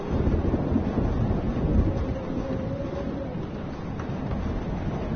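A thunderstorm in the game Life is Strange, steady heavy rumbling of thunder and wind-driven rain filling the whole stretch with dense, continuous low roaring.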